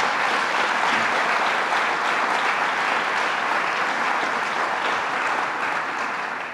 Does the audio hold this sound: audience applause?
yes